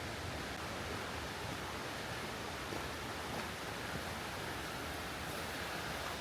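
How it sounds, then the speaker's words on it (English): Constant broadband rush of falling water, even and unbroken, from a small waterfall close by on a hike in the Smoky Mountains; no other sounds stand out. "there's a beautiful little waterfall over here."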